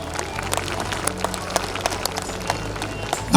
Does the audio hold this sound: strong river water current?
no